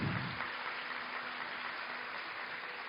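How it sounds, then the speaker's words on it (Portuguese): A church congregation applauds in a steady, dense wash of clapping with no voices, holding at an even moderate level throughout. "Vamos aplaudir o pessoal de Cláudio, por favor."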